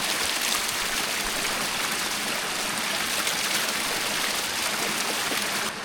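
A rushing stream at a solo backpacking campsite, a steady loud broadband wash of flowing water filling the whole stretch, with no distinct splashes standing out from the continuous flow.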